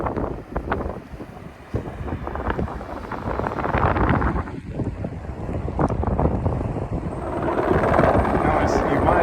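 A helicopter's thudding rotor drone grows louder over several seconds at the Grand Canyon's Bright Angel Trail, mixed with wind buffeting the microphone, while people talk nearby.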